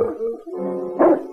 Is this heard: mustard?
no